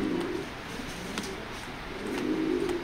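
Racer pigeons coo in soft, repeated low throaty calls, close by, with a brief pause midway before the cooing swells again; no one speaks.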